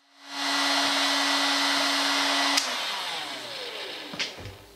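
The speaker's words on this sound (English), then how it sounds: "So let me get the heat gun out and we'll get started." A heat gun runs steadily at close range while warming a split joint on an antique oak dining chair, a loud continuous blowing whine with a steady tone that shifts and drops off near the end, followed by a few light knocks.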